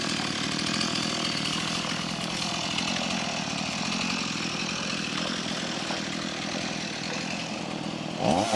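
A chainsaw cutting through timber on the Wenlock River in Cape York, clearing logs and debris for boats, runs steadily and loud from start to finish, with a brief higher whine near the end.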